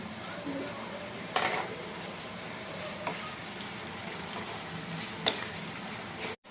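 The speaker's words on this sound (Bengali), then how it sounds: "পেঁয়াজগুলোকে আমরা ততক্ষণই ভাজবো যতক্ষণ পেঁয়াজগুলোর গায়ে সোনালি রং না ধরে যায়" Medium-sized chopped onions fry in a pan toward golden brown, a continuous moderate sizzle broken by a few clinks of stirring against the pan, with soft background speech.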